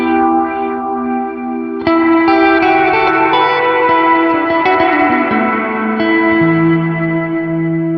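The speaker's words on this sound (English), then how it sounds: "That's a lot of resonance, and it's making it distort." Meris MercuryX reverb pedal set with heavy filter resonance, producing sustained, distorted, echoing guitar tones that swell after a sharp attack near two seconds and keep ringing loudly with shifting pitches, no talking over it.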